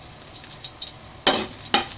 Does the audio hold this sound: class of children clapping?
no